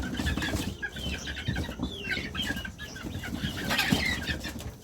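Backyard chickens, young hens raised from chicks, cluck and squawk near and far while wings flap in short bursts, a busy steady farmyard bustle without talk.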